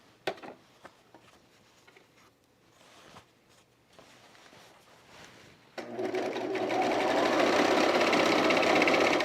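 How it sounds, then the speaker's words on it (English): Overlock serger stitching denim jean shorts at a short stitch length, starting up around six seconds and running as a loud, steady, dense whir through to the end, after quieter handling clatter. "Is the overlock, is it like loud on camera?"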